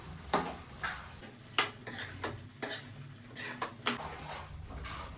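A spoon stirring chili powder into kaju (cashew) chicken in a pan, giving irregular soft scraping clicks against the metal over a low background hum.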